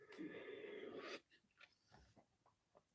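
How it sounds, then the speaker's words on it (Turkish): A long, loud yawn-like breathy exhale fills the first second, followed by quiet, faint rustling and soft noises. "Esnemeye başladık."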